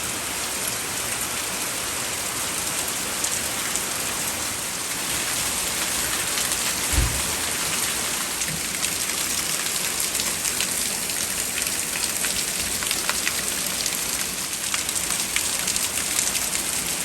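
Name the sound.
heavy summer rainstorm pouring down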